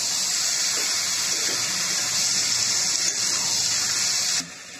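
Water pours steadily from a tap or jug into a pot of chicken being cooked for khichuri, a continuous close gushing that cuts off abruptly at the end.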